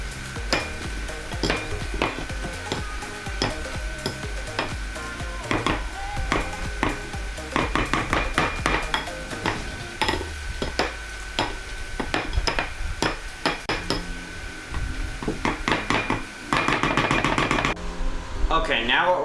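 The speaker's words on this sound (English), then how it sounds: "we will add our bacon bits. That's about 3 pieces of bacon, by the way. We're just gonna mix that in there." Bacon bits being mixed into a potato filling in a bowl, with repeated close scraping and tapping of a utensil in an irregular rhythm, and a voice talking over it at times.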